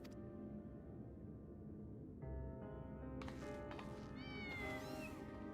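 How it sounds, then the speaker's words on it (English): Cats meow repeatedly in the video game Final Fantasy XIV, several short rising mews arriving over a steady game music background, getting busier toward the end. "can I take a kitty cat with me"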